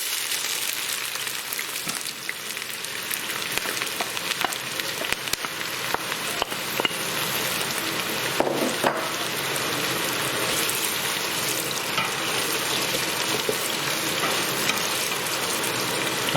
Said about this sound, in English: we're going to want to fry these now on a high heat